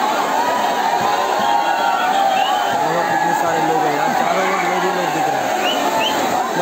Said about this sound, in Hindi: ओ भाई साहब, इतनी भीड़, इतनी सारी भीड़